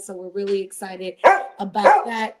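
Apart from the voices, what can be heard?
dog barking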